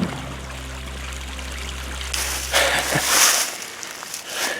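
Stream water rushes and trickles at a trail crossing in the Hoosier National Forest, a steady close flow that briefly swells louder and splashier near the end, with a low steady hum underneath.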